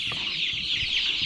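Poultry hens on a farm on a morning cluck and chatter continuously and close by, with short clucks overlapping in a busy flock, with no talk over them.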